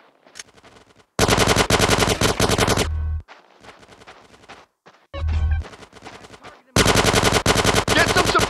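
Rapid automatic gunfire from the video game GTA San Andreas rattles out in loud, dense bursts, a long one early, a short one midway and another at the end, with quieter game sounds in the gaps.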